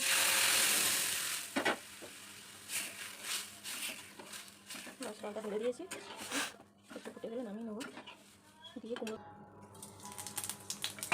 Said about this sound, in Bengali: পেঁয়াজ আর পাঁচফোড়ন আর শুকনো লঙ্কা দিয়ে ফোড়নটা দিয়ে দিচ্ছি ডালটাকে